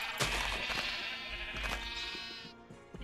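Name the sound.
sheep bleating and eating grass, Minecraft video game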